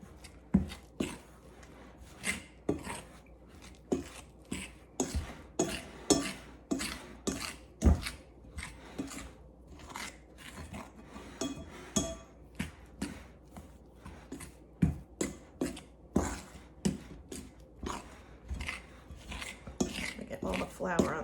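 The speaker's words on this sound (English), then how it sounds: "we are going to mix it together with a fork until everything is just moistened" A fork mixes egg mixture into flour for scones in a bowl, making repeated quiet scraping and clinking strokes in an uneven rhythm, close by, with no talking.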